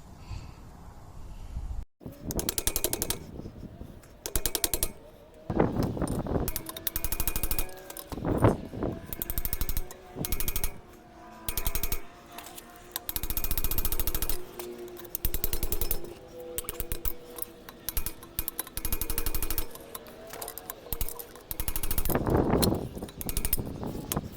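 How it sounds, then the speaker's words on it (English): Repeated metallic hammer blows on a seized front axle bushing, coming in bursts with short pauses, over a constant clanking, grinding workshop din. "start hitting it with a hammer and see if we can get some movement out of it"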